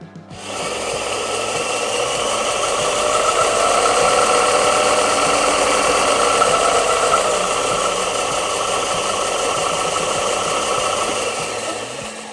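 A Procraft BDS400S disc-belt grinder's asynchronous motor spins up and runs at a steady, loud hum with a whirring tone, holding constant for about ten seconds before winding down, no talking.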